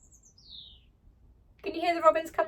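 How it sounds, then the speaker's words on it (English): Robins give a high thin chirping song in an English cottage garden, faint and brief at the start, before a voice speaks close by. "you hear the robins come to say Happy Christmas?"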